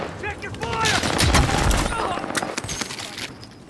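Gunfire erupts in Call of Duty: Modern Warfare, a loud close burst of rapid shots with ringing tones and echoing impacts, fading into scattered reports over about four seconds.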